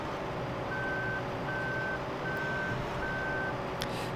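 Truck reversing while coupling a trailer in the farming game Farming Simulator 2015, giving four evenly spaced electronic beeps over a steady loud engine drone.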